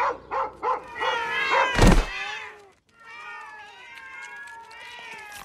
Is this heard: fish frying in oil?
no